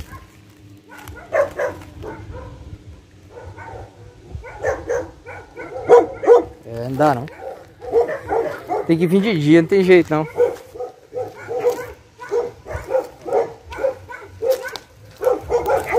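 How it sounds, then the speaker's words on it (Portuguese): Dogs bark repeatedly in the near distance at night, a run of overlapping barks and yips, while someone talks over them. "Tem mais cachorro lá na frente."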